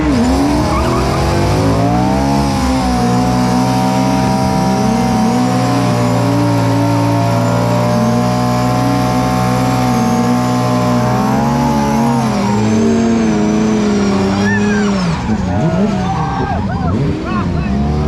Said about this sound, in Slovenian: On je edini, ki ima na drift avto, Krapovič Auspuh, pazi ta.